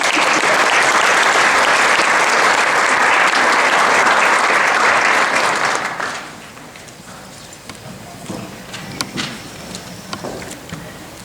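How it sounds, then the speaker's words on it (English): An audience at a National Society of Leadership and Success induction ceremony at Thiel College breaks into loud, sustained applause that fades out after about six seconds, leaving quieter room noise and a few scattered sounds. "Another round of applause."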